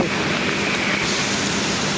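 Heavy daytime rain pouring down in Jaffna, a dense, loud, continuous hiss without breaks or voices.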